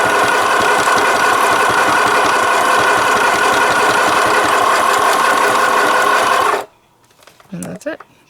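Sewing machine stitching straight down the center of a sheet of paper, a loud, steady mechanical whir that runs for about six and a half seconds, then stops abruptly, followed by faint clicks and handling noise.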